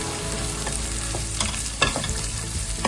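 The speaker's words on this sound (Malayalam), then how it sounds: "സവോളയും ഇഞ്ചിയും വെളുത്തുള്ളി എല്ലാം കൂടെ നല്ലവണ്ണം ഒന്ന് വഴറ്റി വേവിച്ചെടുക്കാം" Chopped onion, ginger and garlic sauté in a pan for a crab roast, a steady close sizzle with scraping stirs and a couple of sharper clatters from the spoon, no voices.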